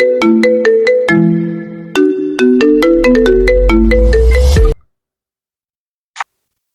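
A phone's incoming-call ringtone plays a loud, close, bright melodic tune of repeated plucked notes, then cuts off abruptly, followed by silence and one brief click.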